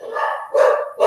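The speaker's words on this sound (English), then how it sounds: "sorry about my dogs barking" Several household dogs bark close and loud, three sharp bursts in quick succession with no talk over them.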